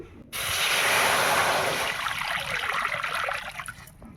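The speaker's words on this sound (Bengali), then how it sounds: "জল দিয়ে দিচ্ছি" Water pours steadily into a cooking pot on a stove, a loud splashing stream that starts abruptly and gradually softens in tone as the pot fills.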